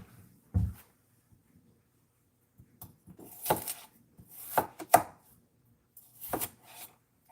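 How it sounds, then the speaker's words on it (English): A knife chops potatoes on a board for soup in a few sparse, close thuds and scraping cuts, separated by quiet gaps. "And I'm going to chop them small"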